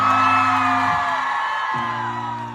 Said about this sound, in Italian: Facciamo un applauso a Luca!